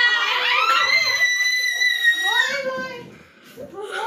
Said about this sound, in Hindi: भाई ने व्लॉग में चीख मार दी है बहुत जोर से